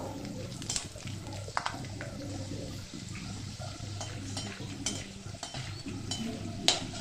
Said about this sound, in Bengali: প্রথমে কড়াই তেল দিয়ে চিনে বাদাম ভেজে তুলে রাখবো